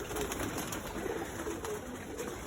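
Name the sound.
racing pigeons being called and fed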